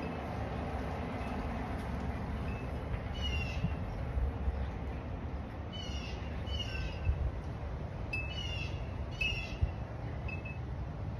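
Outdoor ambience with a steady breezy rumble, over which a few short bird calls chirp now and then, fairly faint and somewhat distant.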